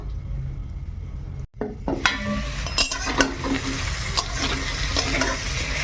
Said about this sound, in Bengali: এবার ঢাকা দিয়ে রেখে দে দেখি আলুর তরকারিটা এবার জল দেবো